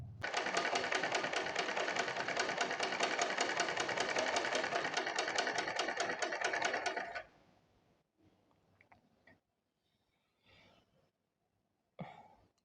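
A sewing machine stitches a salwar in a loud, steady, rapid whir for about seven seconds, then stops, leaving faint scattered handling noises.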